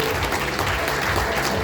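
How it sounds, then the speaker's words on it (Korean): Audience applause fills a political constituency report meeting hall, a dense steady clatter of many hands clapping continuously and fairly loud throughout. "박수 한번 부탁드리겠습니다"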